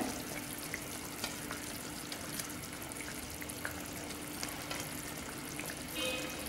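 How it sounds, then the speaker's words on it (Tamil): Fish pieces dropped into a simmering Tamil fish curry (meen kuzhambu) in a pot, heard as a soft, steady bubbling sizzle with faint scattered pops and light clinks, quiet and continuous with no talking. "இப்போ நம்ம மீனை போடுவோம்"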